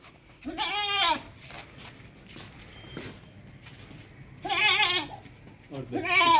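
Tall, healthy goats offered for sale bleat three times in loud, quavering calls, one early and two close together near the end, over a low murmur of background noise.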